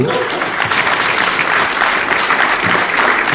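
A convention panel audience at San Diego Comic-Con applauds, a loud, continuous roar of many hands close and full, with a voice faintly mixed in.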